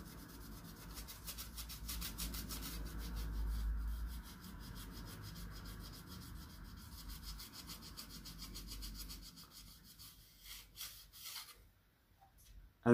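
A kitchen sponge rubbing chrome off an Audi headlight lens, a faint, rapid back-and-forth scrubbing close by that slows and trails off near the end.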